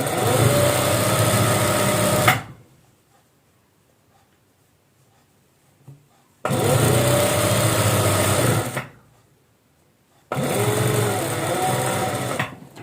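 Sewing machine stitching dress panels for a designer maxi runs in three fast bursts of whirring, separated by quiet pauses, close and fairly loud.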